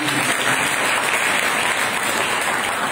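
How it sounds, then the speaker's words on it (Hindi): Loud, dense applause from a church congregation at a Sunday service, steady and continuous throughout with no let-up. "तालियां बजाव"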